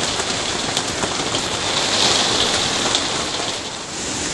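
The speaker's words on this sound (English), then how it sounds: "we're getting some pretty good wind gusts here" Dense, loud roar of rain and blustery wind from a storm in the Adirondack Mountains, New York, steady and broadband throughout with a slight swell in the middle.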